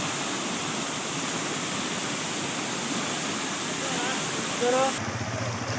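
Steady close roar of a waterfall running after heavy rain in a Kashmir valley, a dense unbroken wash of water with a short voice cutting in just before the end.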